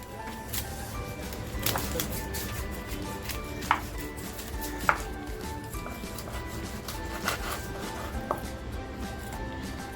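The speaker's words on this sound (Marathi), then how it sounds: "आता आपण रावसला कापायला घेऊया म्हणजे कट करूया" Ravas (Indian salmon) fish being cut into pieces with a knife in a home kitchen, scattered sharp knife strikes on a board against a steady background hum.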